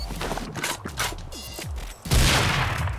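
In the video game Rust, a burst of rapid gunfire and mechanical clatter gives way to a loud, sustained blast from C4 detonating that fills the last second.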